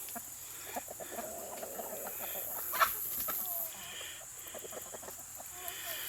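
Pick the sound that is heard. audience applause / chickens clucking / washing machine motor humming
chickens clucking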